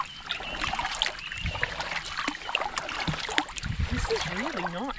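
A kayak paddle dips and splashes on lake water at Waranga Basin, with small trickles and drips between strokes and a voice talking over the paddling.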